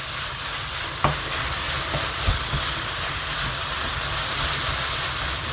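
Onion and green onion fry in a pan for a spicy squid stir-fry, a loud continuous sizzle close by with a few brief stirring knocks, no voices.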